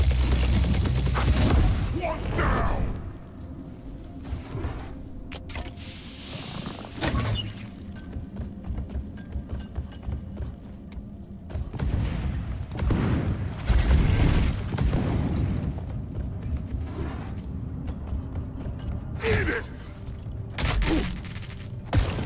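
Explosions and weapon fire in the video game Deep Rock Galactic come as repeated loud, booming bursts over a dense, continuous clatter of gunfire. Quieter gaps fall between the blasts.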